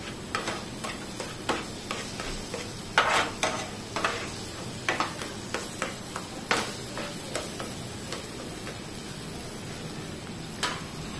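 Eggplant mash for Maharashtrian bharit being stirred in a pan, with steady spoon scrapes and light ticking clicks over a soft, continuous sizzle, no talking.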